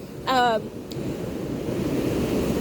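Water waves wash up close by on a shore, a steady broadband rush of surf and wind, with a brief tonal sound early on.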